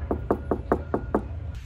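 Six quick, evenly spaced knocks on a door, firm and fairly close, followed by quiet.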